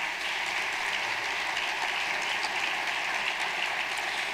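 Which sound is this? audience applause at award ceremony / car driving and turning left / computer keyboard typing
audience applause at award ceremony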